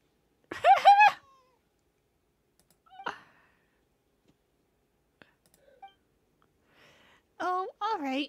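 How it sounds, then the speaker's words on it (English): A cartoonish cat in the video game Genshin Impact meows twice with bright, wavering cries at the start and end, separated by near silence with faint clicks and soft sounds. "Oh, the cat is meowing."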